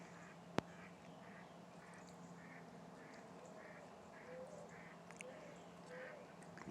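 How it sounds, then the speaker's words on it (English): A duck quacks repeatedly outdoors on an early March spring morning at 7 a.m. The moderately distant quacks come in a steady series over quiet ambient outdoor noise, with one sharp click near the start. "Can you hear the duck?"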